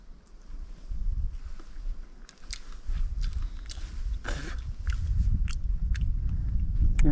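Close crunchy chewing of pine nuts outdoors in the Inyo Mountains, with crisp cracking bites over a low wind rumble and soft breathy sounds.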